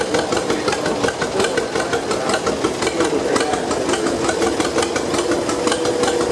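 A 1951 Ford tractor engine chugs steadily with an even, knocking rhythm as it rolls past in a parade, moderately close, amid outdoor crowd noise.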